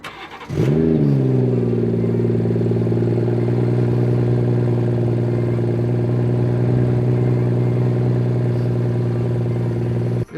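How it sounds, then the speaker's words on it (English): A BMW 440i M Sport engine cold-starts with a short crank, then settles into a loud, steady, even idle held close by for around ten seconds with no talking. "let's go ahead and do a cold start"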